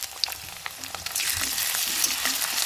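Ginger-garlic paste hits reddened fried onions and chopped chili in hot oil for a spinach-paneer dish, sizzling close up with scattered crackles and stirring scrapes that thicken into a steady fry.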